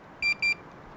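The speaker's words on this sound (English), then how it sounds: "I hit the power button once and the beep goes off." A Potensic Atom drone remote controller gives two short, high electronic beeps in quick succession after its power button is pressed, close and clear over faint background hiss.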